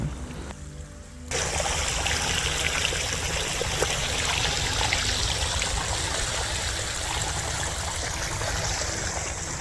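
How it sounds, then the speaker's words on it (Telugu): Irrigation water runs through a small channel into a paddy field at night, a steady rushing trickle that swells after a quieter first second and then flows evenly and close by. "సో వాటర్ అయితే మొత్తానికైతే పొలంలోకి వచ్చింది"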